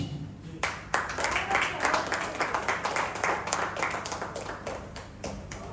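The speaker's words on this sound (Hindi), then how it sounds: "एक बार फिर से तालियां इनके लिए जोरदार" Dense, steady applause fills the hall from an audience cheering the cast after a stage drama. The clapping starts abruptly and continues evenly throughout, with no talking over it.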